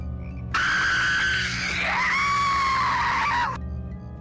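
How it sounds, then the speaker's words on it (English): A monster in a Gmod horror map lets out a loud, drawn-out shriek lasting about three seconds, wavering and sliding in pitch over a low game background hum. "Freakiest scream."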